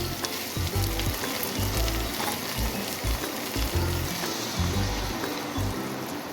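Water poured into chana masala, chickpeas frying in spices, sets off a loud, steady sizzle with bubbling and a trickling stream running throughout, close and with no voices.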